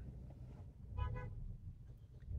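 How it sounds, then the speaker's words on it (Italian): Street traffic rumbles in a low, continuous drone outdoors, broken by a short, clear car horn toot about a second in, with a fainter vehicle sound near the end. "ci sono tanti rumori di traffico."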